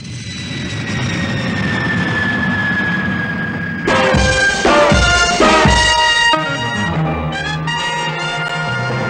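A Mirage delta-wing jet's engine gives a loud, sustained whining roar with a slowly falling tone for several seconds, then a sequence of ringing, musical-sounding tones takes over.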